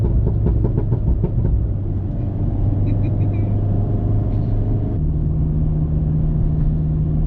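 A 2013 MINI John Cooper Works GP engine drones loud and close while driving off the highway, a steady low rumble under rhythmic pulses early on, then shifting to a new steady tone as it changes pitch.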